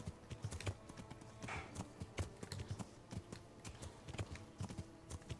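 Horse hooves clip-clop in a steady walking rhythm in the medieval game Kingdom Come: Deliverance, the sharp knocks close and fairly loud over a low rumbling background, with no talking.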